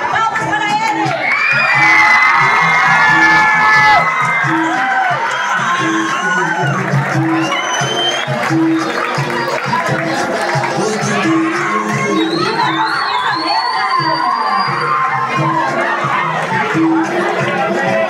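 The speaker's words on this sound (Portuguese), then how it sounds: "Palmas para ele!" School crowd at a Black Consciousness Day fashion walk cheering, whooping and shouting continuously and loudly, with children's voices and excited chatter rising over a steady drumbeat.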